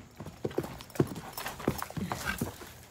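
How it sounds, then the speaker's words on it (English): A mustang being ground driven walks along an arena rail, its hooves clip-clopping in a steady, close rhythm of distinct thuds with no talk over them. "I'm just wanting him to walk along the rail."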